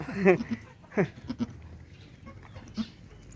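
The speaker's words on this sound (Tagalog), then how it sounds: "Nanganak na po yung kambing namin." A newborn-kid farm goat in a rural backyard lets out several short, loud bleats close by, with a couple of fainter cries trailing off afterward.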